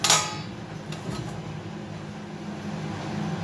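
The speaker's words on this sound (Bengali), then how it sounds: "আমি এবার এই থালাটা দিয়ে একটু এখানে ঢেকে দিই।" A plate is set down over a cooking pot in a home kitchen, giving one sharp metallic clank right at the start, then a low steady background hum.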